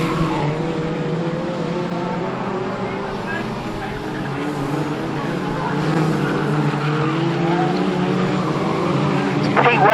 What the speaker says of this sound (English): 155 Carl Lewis in the purple and gold car, the defending track champion making ground